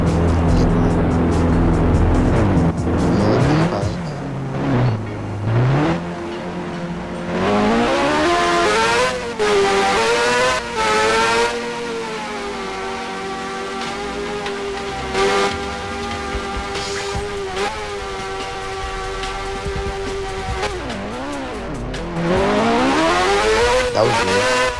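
A motorcycle engine ridden in a video game, loud revving that climbs and falls in pitch through several gear-like sweeps, with tire noise and a steady drone in the middle stretch.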